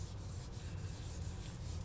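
Paper is rubbed by hand onto a gel printing plate, making a steady, close, dry rubbing and scuffing sound that continues for about two seconds without talk.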